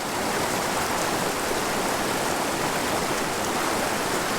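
Fast-flowing creek current rushing steadily and close, a dense unbroken wash of water noise with no voices.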